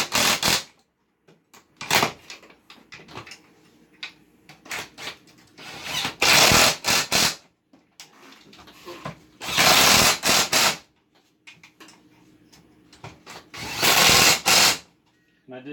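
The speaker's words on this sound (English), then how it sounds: "So we're going to go around and tighten them all up" A power tool, likely an impact wrench or ratchet, runs in repeated whirring and rattling bursts while tightening transaxle case bolts, several of them long and loud, with quieter mechanical clicks between.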